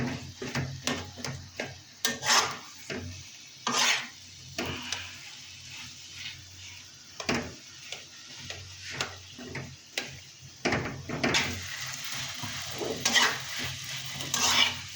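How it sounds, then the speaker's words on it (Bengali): Mashed potato stirred and fried in oil in a pan for Bangladeshi alu bhorta bagar: repeated scraping and knocking strokes of the spoon over a steady sizzle, near and fairly loud, with no talking. "আলু ভর্তা এভাবে তেলের মধ্যে ভেজে ভেজে কষি কষি নিতে হবে, নেড়ে নেড়ে ভেজে নিতে হবে।"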